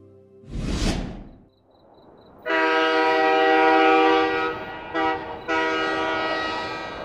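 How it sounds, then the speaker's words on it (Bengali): A train sounds a long, loud whistle with a brief break before resuming, following an opening whoosh as it prepares to depart, heard alone without voices. "ট্রেনটা হুইসেল দিল কিছুক্ষণ আগেই"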